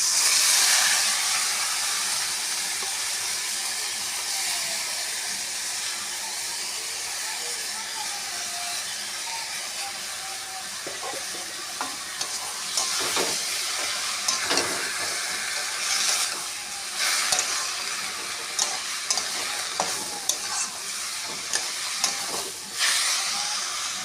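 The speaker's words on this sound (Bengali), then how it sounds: "ডাল আর চালটা দিয়ে এতে আমি কষিয়ে নেব" Washed masoor lentils and rice sauté together in a pan for khichuri, with a steady hissing sizzle that later turns into scattered crackles and scraping stirs.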